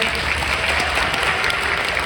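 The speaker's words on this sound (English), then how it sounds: "Can we have a round of applause for Jill?" Audience applauding a baritone saxophone soloist with a school jazz band, a steady dense wash of clapping that holds at an even level for the whole stretch.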